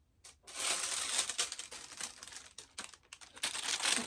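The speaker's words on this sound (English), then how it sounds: "this is going to be very crinkly" Crinkly plastic packaging is handled and opened close up, giving loud, irregular crackling and rustling bursts with brief pauses.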